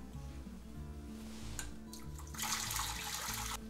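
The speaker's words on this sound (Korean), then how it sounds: "물 좀 빼겠습니다." Blanched carrots and onions are drained, with water running and splashing steadily out of the pot, a brief clatter partway through, and a louder gush of pouring near the end.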